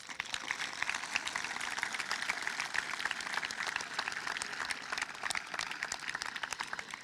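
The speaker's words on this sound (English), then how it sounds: "Give yourselves a round of applause." Graduates clapping at the 2017 Peters Township High School commencement, a continuous distant wash of applause from a large crowd that stays fairly faint throughout.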